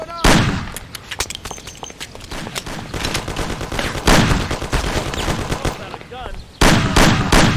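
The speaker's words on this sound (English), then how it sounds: "Gun." Rapid bursts of close gunfire and machine-gun volleys crackle through a shootout in the game Mafia, loud and dense throughout, with a brief lull before a final heavy burst.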